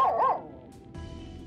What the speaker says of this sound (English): Oh, a doggy! How is a dog supposed to solve a puzzle?